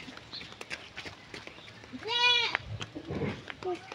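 A goat gives one clear, wavering bleat close by, amid light outdoor sounds and a faint voice, with a short second call near the end.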